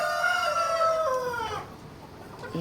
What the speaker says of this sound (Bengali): মুরগিগুলা খুব সুন্দরভাবে এটার মধ্যে গিয়ে ডিম পাড়তেছে